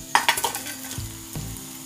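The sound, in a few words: rui fish frying in hot oil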